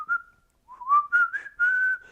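A whistled melody imitating a sampled McDonald's jingle from a rap song, several short rising and sustained notes in quick phrases, clear and close with no talking.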